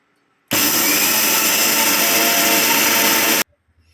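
Dry mustard seeds being ground in an electric kitchen grinder, a loud steady whirring roar that starts abruptly, runs for about three seconds without pause, then cuts off.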